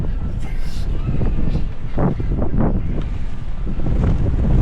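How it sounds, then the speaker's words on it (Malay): Strong seaside wind at Busan blows steadily into the microphone, a loud continuous roar with gusty swells, while someone talks over it throughout. "So kat sini angin memang kuat gila."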